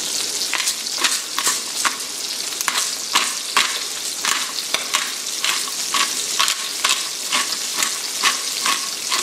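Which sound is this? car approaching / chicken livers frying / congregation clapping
chicken livers frying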